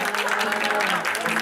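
Party guests at a husband's birthday celebration clap together, a short dense burst of applause close by, with voices mixed in.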